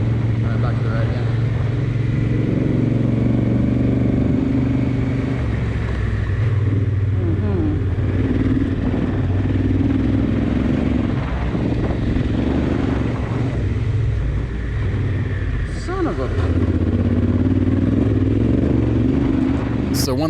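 Loaded Honda Africa Twin and BMW adventure motorcycles riding off-road, engines droning loud and constant with gravel crunch and wind roar, under intermittent talk from a rider.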